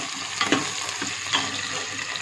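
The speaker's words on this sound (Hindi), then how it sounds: "प्याज को ब्राउन होने देते हैं।" Onions frying in a pan for a ghiya chana dal dish, a steady close sizzle broken by a few soft scraping stirs of a spoon, with no talking.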